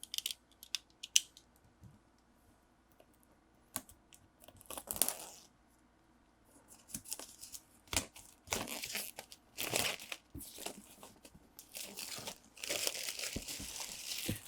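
Someone unboxing a Super Fantasy Brawl Kickstarter expansion, with bursts of crinkling plastic and rustling packaging separated by quiet stretches and a few sharp clicks, getting busier and louder toward the end.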